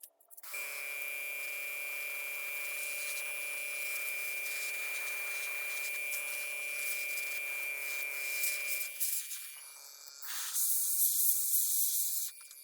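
Green paint sprayed lightly into the mouth and tongue of a Toxin symbiote cosplay mask, with a steady airy hiss and faint hum running for several seconds, then a brief pause and a brighter, louder burst of spray near the end.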